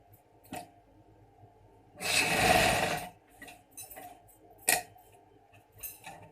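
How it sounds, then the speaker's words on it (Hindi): A sewing machine stitches a men's kurta placket in one loud, whirring burst of about a second, framed by faint ticks and light clicks in an otherwise quiet room. "और फिर यहाँ पर इसकी सिलाई लगा के हम इसको फिनिश कर लेंगे।"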